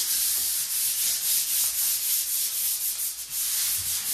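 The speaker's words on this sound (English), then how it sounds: "we're going to start off with a light sand on the surface with an Annie Sloan medium sanding pad" Steady, gentle scratchy rubbing of an Annie Sloan medium sanding pad on a furniture surface, continuous back-and-forth strokes, close and moderately quiet with no talking.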